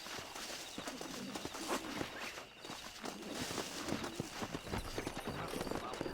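Horse hooves clip-clop steadily over ground in a Red Dead Redemption game scene, a continuous run of footfalls mixed with ambient outdoor sounds and faint background voices.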